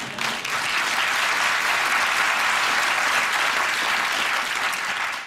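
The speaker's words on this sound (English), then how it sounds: "You're seriously giving him a round of applause?" Sustained studio audience applause on a British TV panel quiz show, loud and dense from start to finish with no voices over it.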